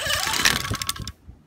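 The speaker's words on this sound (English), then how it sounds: "very low idle there, so just cut out, give it another start." A Saito FA-300T model aircraft engine running on a 20:1 gas conversion mix sputters briefly at a very low idle, then cuts out abruptly to near silence, heard close and loud.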